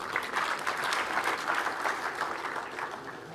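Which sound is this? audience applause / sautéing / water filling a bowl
audience applause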